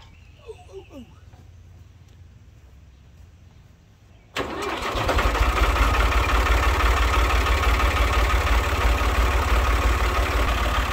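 A chainsaw or small garden engine starts abruptly partway through, then holds a steady, loud, close idle to the end, with faint voices and quiet handling noises before it fires.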